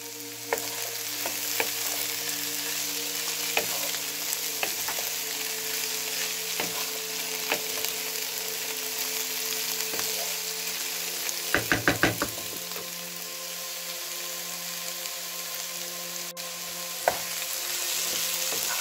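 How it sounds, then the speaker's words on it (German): Potatoes and kohlrabi sauté with onions in a pan, a steady sizzle running throughout, broken by scattered knocks and a quick cluster of clacks from a utensil against the pan. "Die schwitze ich jetzt nochmal mit den Zwiebeln an"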